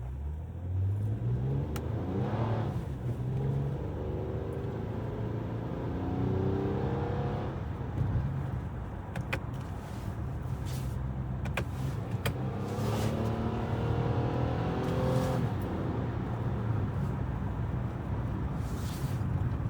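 A 2024 Toyota Camry XSE V6 accelerates hard after a paddle-shifter upshift, its mid-pitched engine climbing steadily through rising revs, loud and continuous throughout with road and cabin noise underneath.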